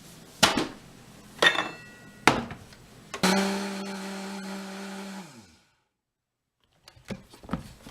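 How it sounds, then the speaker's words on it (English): A few sharp knocks and clatters lead into a blender grinding rolled oats into flour: a loud whirring burst of about two seconds that winds down into silence, followed by faint handling clatter. "if I put 2 cups of rolled oats in the blender"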